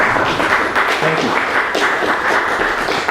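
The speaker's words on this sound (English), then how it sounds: "Liz, I hope you're not applauding because you remember the board and are trying to encourage hoopla" Applause from a small audience after a poetry reading at Beyond Baroque, steady dense clapping close by with no voices over it.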